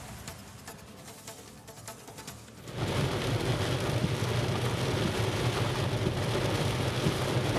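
Heavy rain pours down in Bangalore, a dense, steady hiss that swells suddenly louder partway through and then holds constant, with no voices.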